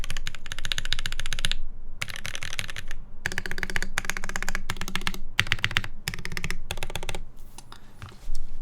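Fast clacky key presses on a Hiney TKL One mechanical keyboard come in bursts separated by brief pauses, close and fairly loud, with no voices.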